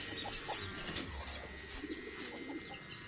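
Soft, irregular clucking from a hen among other birds, with scattered low calls and constant background noise throughout.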